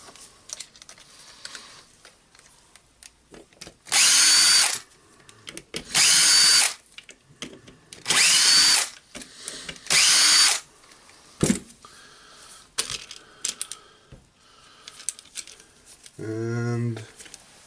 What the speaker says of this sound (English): There's a 4 screws here holding the cover itself.